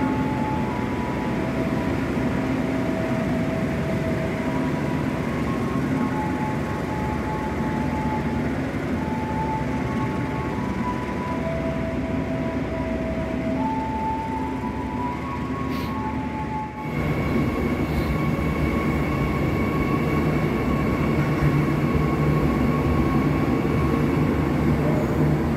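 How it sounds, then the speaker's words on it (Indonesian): An Argo Lawu passenger train pulls into an Indonesian station, a long steady rumble of rolling wagons with sustained tonal whines and squeals, followed by a brief dip and then the low mechanical drone continuing. "ini adalah kereta api Argo Lawu yang tiba di jalur"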